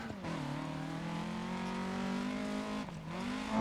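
A rally car engine in DiRT Rally 2.0 on a New Zealand stage drones loudly and steadily at high revs, dipping briefly as it shifts before climbing again, close and continuous with no talk.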